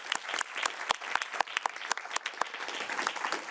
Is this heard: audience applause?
yes